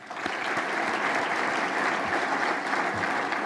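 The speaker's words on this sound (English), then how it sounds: "Let's give them all a round of applause." Applause for sponsors at a breakfast fundraising event, a full room clapping in a dense, steady wash at moderate volume.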